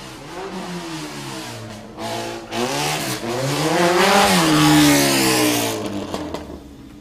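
A Formula McLaren race car sweeps through the Tower corner on a circuit, its engine note falling and rising through the bend before fading, with no voices.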